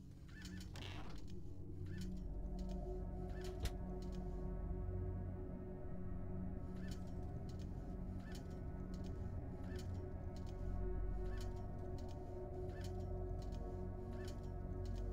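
Birds honk repeatedly in Fahrenheit: Indigo Prophecy, goose-like calls arriving in a loose, irregular series over a steady low ambient drone, with no talking.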